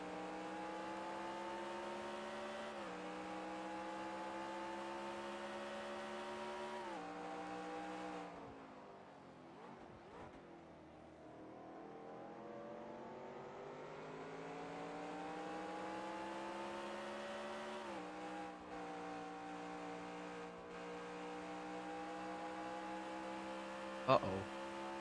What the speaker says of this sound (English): Let's take you here on a visor cam lap here with our race leader Logan Cloud.